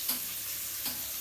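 Onions frying in a pan, a soft continuous sizzle with two faint stirring scrapes, quiet and alone.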